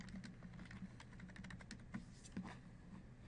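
Quiet, steady typing on a computer keyboard, with irregular soft key clicks and a few slightly louder taps, close by.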